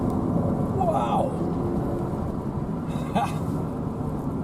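A Jaguar X-Type drives up winding mountain roads, its engine and road noise forming a steady loud rumble throughout, with brief whooshing swells; no one speaks.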